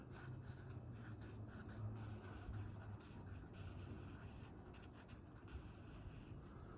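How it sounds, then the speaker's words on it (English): A pen or marker colors in a drawing on an egg head, making faint soft scratchy strokes in a quiet room with no talking. "I'll finish coloring this in just a second."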